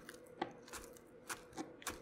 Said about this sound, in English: So let's get to chopping.